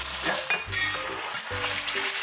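Meat sizzles and crackles steadily in a hot pan during a weeknight stir-fry, with intermittent scraping and stirring strokes over the continuous loud frying hiss.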